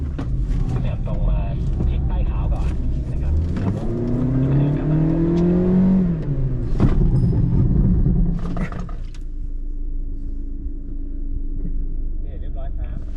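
A 2023 Mazda2 on a test track, its engine rumbling steadily and rising in pitch through a strong rev before settling back to a lower drone, with people talking over it.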